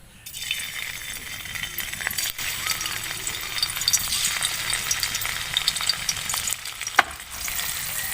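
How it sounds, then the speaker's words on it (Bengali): Plain paneer pieces with no turmeric or salt fry in a pan, giving a continuous bright close sizzle with light stirring scrapes and one sharp clink near the end. "হালকা একটু লাল লাল করে ভেজে নেবো পনিরগুলো।"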